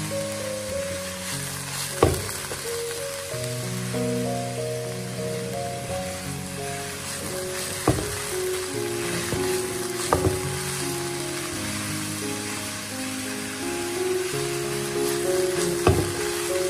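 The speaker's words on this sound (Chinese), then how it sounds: "炒香之后下入莲藕丝，再开中火将它翻炒，大概翻炒个一分钟左右" Shredded lotus root is stir-fried in a wok over medium heat, a continuous hissing sizzle running throughout with a few sharp metallic knocks of the spatula spaced apart, and no talking.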